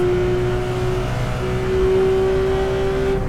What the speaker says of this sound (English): And now we can put the gas on flat and keep it flat